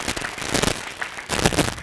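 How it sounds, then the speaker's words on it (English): An audience claps for the exhibitors at a 4-H/FFA goat and goat kid show, a crackling burst of many hands that swells, dips briefly, then picks up again, with no voices over it. "all of these showers, a nice round of applause"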